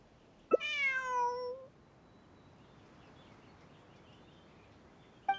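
A kitten in the video game Genshin Impact lets out one clear, drawn-out meow, followed by quiet ambient background and a brief sound at the very end.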